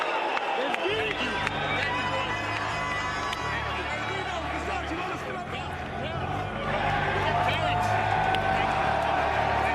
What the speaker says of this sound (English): Damn, they're booing his ass.